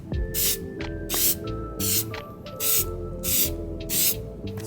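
Bursts of spray from an aerosol paint can coating a car spoiler in black, about seven short hissing sprays in an even rhythm, close and loud, with no talk.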